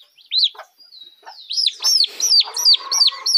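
Young poultry chicks, turkey poults, peep close by in bright, rising chirps, first scattered and then in a quick, insistent run of repeated calls, with no talking.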